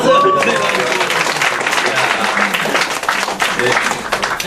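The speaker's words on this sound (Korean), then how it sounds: "우와, 박수!" Audience applause at a Korean coaching lecture on core coaching competencies, a dense steady patter of clapping across the room with voices and cheers mixed in, loud throughout.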